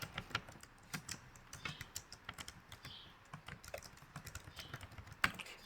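Quiet, close clicks of a computer keyboard being typed on in an irregular, fairly quick rhythm of keystrokes with small pauses, no voices.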